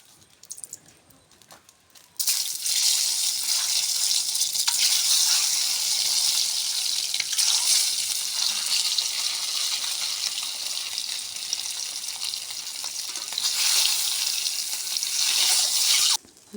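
Eggs seasoned with salt and turmeric fry in a pan. After a quiet start, a loud, crackling sizzle bursts in and continues steadily, swelling again near the end before stopping, with no one talking.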